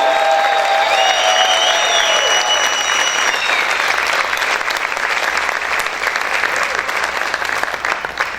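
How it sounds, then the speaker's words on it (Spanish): A church congregation applauds loudly and steadily, with shouts and cheers mixed in and a few sustained vocal tones over the dense clapping, all continuing at strong volume throughout. "Pueden gritar y aplaudir fuerte al Rey."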